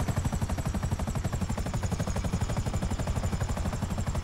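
Helicopter in GTA 5 Online, a fast steady rotor chop thudding loud and close in an even rapid pulse throughout, with no talk over it.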